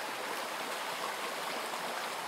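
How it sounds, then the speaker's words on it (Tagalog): A flowing creek (sapa) rushes steadily with broadband watery hiss, close and continuous with no talking over it. "Yung umaagos na sapa."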